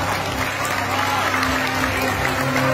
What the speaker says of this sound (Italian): il vostro spontaneo, generoso, caloroso applauso